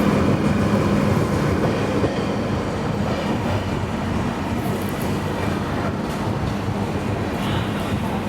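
The Saurashtra Janta Express runs steadily along the line with a constant low rumble and wheel clatter from the carriages, easing slightly softer partway through, with no voices.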